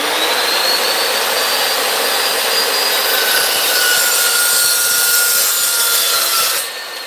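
A saw cutting steadily through metal, passing straight through a weld, makes a continuous, loud, close grinding rasp that holds for several seconds before easing off near the end.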